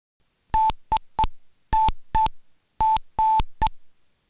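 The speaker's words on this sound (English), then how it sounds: "Now check the Morse identification code." VOR navigation station identification sounds as a clean, steady tone keyed into Morse code, eight short and long beeps in three groups, close and alone without talk.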